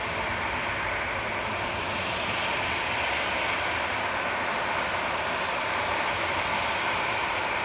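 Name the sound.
aircraft moving at Manchester Airport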